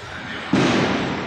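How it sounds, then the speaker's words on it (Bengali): Diwali fireworks go off in the distance near a metro station, heard as a single muffled burst that swells into a sustained rumbling wash under steady background noise. "অনেক আতশবাজি শব্দ আসতেছে বিভিন্ন জায়গা থেকে"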